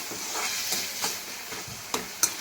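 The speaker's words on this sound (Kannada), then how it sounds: "ಟೊಮೆಟೊ ಕೂಡ ಅಷ್ಟೇ ಚೆನ್ನಾಗಿ ಮೆತ್ತಗಾಗೋರ್ಗು ಹುರ್ಕೋತೀನಿ" Tomatoes fry in a pan for a North Karnataka-style potato sambar, giving a close sizzle broken by a few sharp stirring scrapes.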